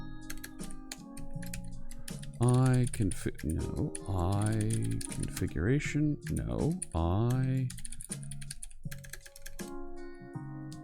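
Rapid clicking on a computer keyboard comes in bursts of keystrokes while someone talks over much of it.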